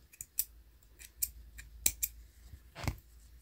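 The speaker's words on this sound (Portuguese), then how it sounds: "vamos cortar o fio." Scissors snip through crochet yarn while finishing a baby's crochet bootie, giving several quick, close, sharp cuts spread irregularly across a quiet background, with one louder final snip.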